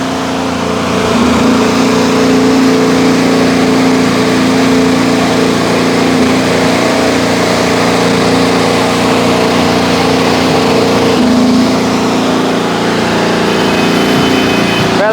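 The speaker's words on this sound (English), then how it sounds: "That is the Honda firing up in the AlphaTauri team." Honda Formula 1 power unit in the AlphaTauri car at the 2023 Spanish Grand Prix, firing up and holding a loud, steady, buzzing idle drone for most of the stretch, with a brief dip near the end.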